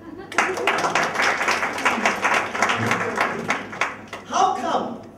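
Scattered clapping from an audience at a college business seminar, with uneven hand claps running for several seconds under and between speech.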